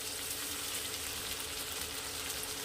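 Steady, quiet sizzling and bubbling hiss of masala frying in a pan after a splash of water is added, continuous and even with no talking.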